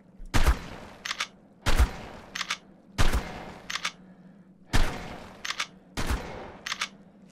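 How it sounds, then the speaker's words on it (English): Shotgun blasts in the survival video game Ark Survival Ascended, five loud booming shots fired one after another at a steady pace of roughly one and a half seconds, each followed by a brief metallic pump or reload clack, with no talking. "Man, this shotgun's awesome."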